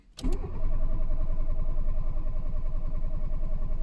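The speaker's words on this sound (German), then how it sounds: "Mal gucken, ob der noch anspringt." A starter whirs briefly, then a one-litre car engine with 228,000 km on it catches and settles into a steady, rumbling idle close by.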